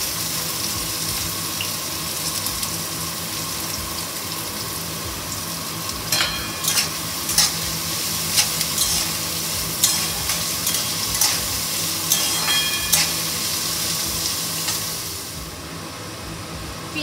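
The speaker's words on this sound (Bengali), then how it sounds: "তেল গরম হয়ে গেছে, এবার পেঁয়াজ কুচি দেবো।" Chopped onions frying in hot white oil for egg bharta: a constant sizzle, with a run of clattering, scraping stirs in the middle before it settles back to plain frying.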